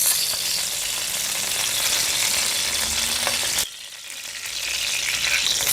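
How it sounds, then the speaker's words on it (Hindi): Desi ghee sizzling and frying in a kadai, a steady loud hiss with a brief dip before the sizzle surges back up. "तो अब यहाँ पर मैंने कढ़ाई ले ली है और इस कढ़ाई के अंदर मैं पहले घी शामिल करूंगा।"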